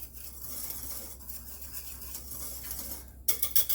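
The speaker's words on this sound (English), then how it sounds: "we're just going to give that a little stir to mix all the dry ingredients together" Dry ingredients with salt for a cobbler stirred in a bowl, a soft continuous scraping and rubbing that ends in a sharper burst of clinking utensil strokes at the close.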